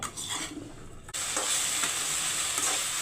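Sliced okra frying in a pan for a bhindi peanut fry, a loud, steady sizzle that swells sharply after a short stir and then holds bright and constant, close up with no voices.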